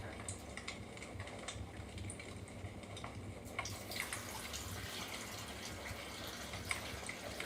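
Filtered water poured into a cat's water bowl, a faint, steady trickle and splash heard quietly for several seconds.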